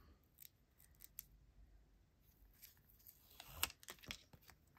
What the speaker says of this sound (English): I'm going to peel off my paper backing.